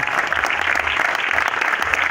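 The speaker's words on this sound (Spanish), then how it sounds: "El aplauso fuerte para Esteban" Steady, dense applause from an audience at a football awards ceremony honouring Club Nacional goalkeeper Esteban Conde, loud and continuous throughout with no speech over it.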